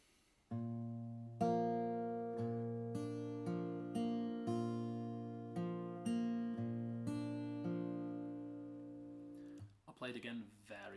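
Fingerpicked acoustic guitar plays a song, with steady plucked notes and ringing chords for about nine seconds, followed by a brief rustle of handling noise at the end.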